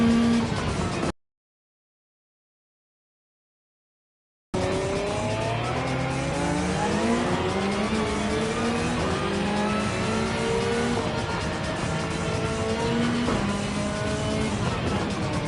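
Race cars in Gran Turismo 7 roar loudly through a stretch of engine revving and gear changes with squealing tires. The sound cuts out for about three seconds near the start, then returns with continuous engine noise.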